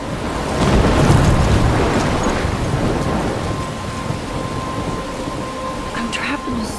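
A thunderstorm in the video game Life Is Strange: heavy rain pours steadily while a low thunder rumble swells early and slowly fades, all fairly loud and close.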